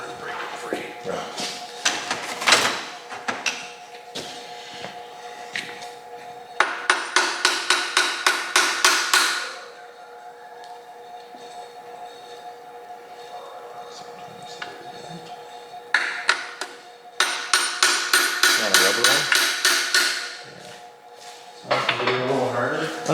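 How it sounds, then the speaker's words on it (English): Hammer tapping an engine part loose during a teardown of a 1975 Ford F100 engine: rapid bursts of sharp metallic blows, several groups of quick taps separated by pauses, close and loud, with some speech between. "These sometimes you gotta tap with a hammer to break it free."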